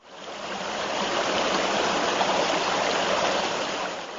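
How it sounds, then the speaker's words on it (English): A gurgling brook rushes steadily, a continuous close, fairly loud wash of flowing water that fades in at the start and holds evenly. "and the gurgling of a brook"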